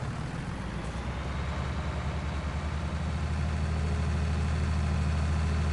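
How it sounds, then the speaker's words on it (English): Tractor engine in the farming game Farming Simulator 19, driven at full speed to ram an object: a steady, low rumbling drone with a throbbing pulse that holds constant throughout, no voices. "I'm just gonna ram at full speed like Shade said with the tractor"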